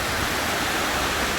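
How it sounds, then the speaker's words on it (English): The Rio Macho in Costa Rica's Orosi Valley rushes along in a loud, steady roar of water, close and continuous without any talking. "you can see the water's actually rushing pretty good in some areas"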